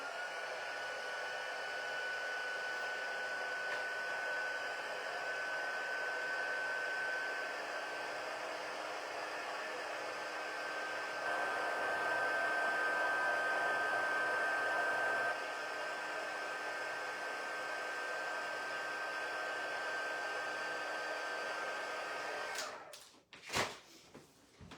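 A heat embossing tool blows hot air in a steady, unbroken whooshing hum for about twenty seconds, close and constant, then cuts off, followed by a few soft knocks and handling sounds.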